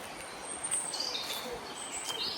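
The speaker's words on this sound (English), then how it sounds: "Listening to the bird song here and the sound of the stream" Birds sing near a stream in the countryside by a chateau, bright chirps and short trills scattered over a soft, steady background wash.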